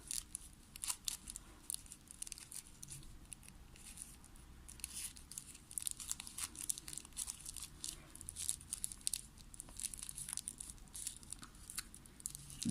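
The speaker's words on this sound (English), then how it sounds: "And this one we're folding up." Paper being folded and creased into an origami spinosaurus, close, quiet crinkling and rustling in an irregular stream of soft crackles with no talk.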